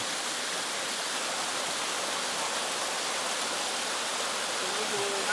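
Ariy Doi waterfall at Pha Nok Khao pours in a dense, continuous rushing hiss, steady and close, with no clear voices.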